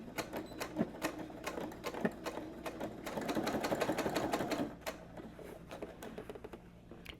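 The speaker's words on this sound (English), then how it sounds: "our first stitch is going to be at a 1/4 inch seam" Sewing machine running a quarter-inch seam on a fabric diaper pouch, rapid mechanical stitching in bursts with short pauses, a longer steady run in the middle, heard close and alone.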